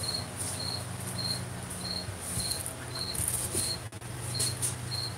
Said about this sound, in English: that cricket's still video bombing you guys